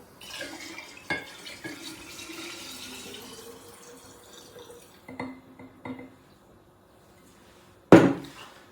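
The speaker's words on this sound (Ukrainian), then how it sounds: "додаємо спирту воду" Water is poured into alcohol for a liqueur, giving a close, gurgling pour that fades out, followed by scattered clinks and a sharp knock near the end.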